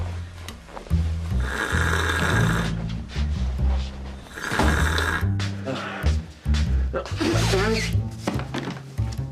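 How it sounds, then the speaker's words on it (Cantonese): Loud, raspy snoring from a woman asleep in bed rolls on in long repeated breaths, close up, with a voice briefly talking over it partway through. "咩都搞晒，都仲咁大鼻鼾聲嘅。"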